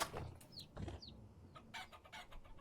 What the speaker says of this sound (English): I do hear the chicks